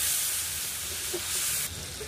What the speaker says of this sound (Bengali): এই জলটা দিয়ে আবার এটাকে নেড়ে নেব